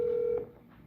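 A telephone being dialed, heard as a single steady touch-tone beep lasting under half a second, close and clear, then fading into quiet room hiss.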